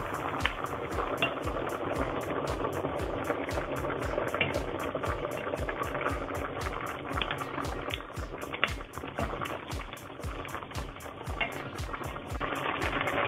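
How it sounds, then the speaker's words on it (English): Beef curry with vegetables boiling in a pot, a steady close bubbling and popping that runs on without a break, with dense little bursts going the whole time. "We're gonna let it sit and let it boil until the vegetables become soft."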